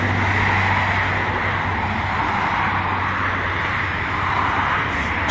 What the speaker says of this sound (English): Another truck.